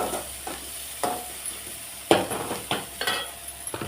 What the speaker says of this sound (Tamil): நல்லா கிளறி விட்டுட்டே இருக்கணும்.